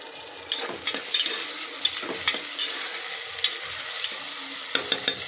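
Chopped vegetables with potato and ginger-garlic paste fry in a pan for a simple pulao, giving a soft continuous sizzle with close, intermittent clinks and scrapes of a stirring spoon.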